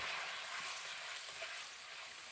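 Pointed gourd curry sautéing in a pan over lowered gas heat for a village-style vegetarian dish, giving a steady, close, even sizzle that holds at one level throughout with no talk.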